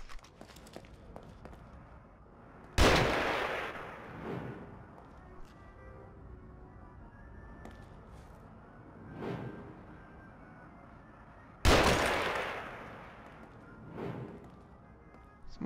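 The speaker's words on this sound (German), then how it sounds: "Jetzt hole ich den Sniper raus." Two loud, sharp sniper rifle shots in the horror video game The Evil Within, about nine seconds apart, each followed by a rolling echo and fainter thuds, over quiet game ambience.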